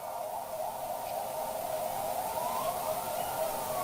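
Ambulance sirens wail in the distance, a sustained steady tone that slowly bends upward through a soft wash of background noise, with no speech.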